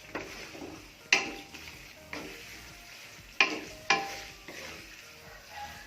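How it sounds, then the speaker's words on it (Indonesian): Ground green spice paste for opor ayam sautés in a pan, with a soft steady sizzle broken by several sharp scraping strokes of a spatula stirring it around, close and clear with no talking. "Oke, bumbu halusnya ditumis sampai benar-benar wangi ya guys."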